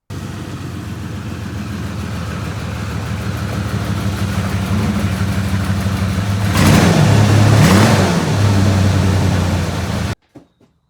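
A 1992 Oldsmobile Bravada engine running close by, a steady low rumble that builds gradually, with two short revs around the middle rising and falling, before cutting off abruptly.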